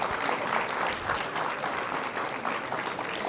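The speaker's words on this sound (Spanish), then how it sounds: "vamos a un aplauso al Señor" A church congregation applauds for the Lord, a sustained burst of many hands clapping together, dense and steady throughout.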